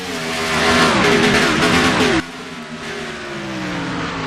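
Race cars in a video game roar off at the green flag of the Fiber Fuel 500 at Phoenix Raceway, a loud dense engine howl with rising revs and tire noise that cuts to a steadier, quieter drone midway.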